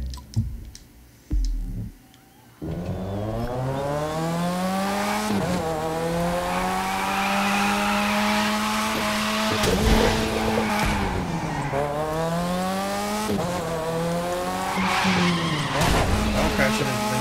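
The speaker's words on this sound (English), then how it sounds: "Gearbox and exhaust." Race car in The Crew 2 video game, its engine and exhaust roaring steadily with rising and falling revs through gear changes, tire skids and squeals mixed in, loud and continuous after a brief quieter start.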